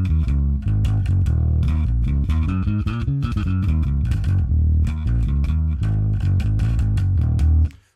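Fingerstyle bass guitar through an Ampeg SVT amp model in Line 6 Helix Native plays a busy, continuous line with a round low end and a little top definition, loud and alone until it stops abruptly at the end.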